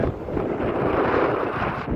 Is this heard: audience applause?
no